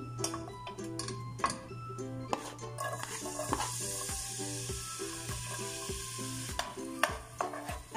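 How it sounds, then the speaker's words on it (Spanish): Chopped onion and garlic sautéing in oil, heard as a faint sizzle under regular ticking clicks and the knock of a utensil against the pan. "lo vamos a poner a sofreír aquí en este aceite que agregamos"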